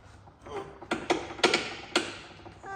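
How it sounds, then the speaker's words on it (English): Metal bolt being wriggled out of a car suspension arm: a few quiet, close metallic clicks and taps in an irregular rhythm over a couple of seconds, with light rattling between them. "and then try and wriggle the bolt out"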